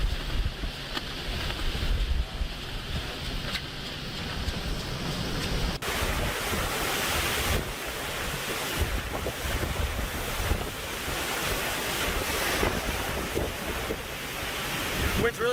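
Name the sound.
strong hurricane wind during Hurricane Laura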